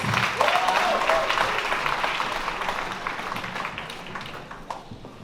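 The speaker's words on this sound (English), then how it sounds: "Please give them a round of applause." Applause from wedding reception guests for the bride's relatives as they come forward to bless the newlyweds; a dense round of clapping that starts loud and slowly thins and fades over several seconds, with faint voices mixed in.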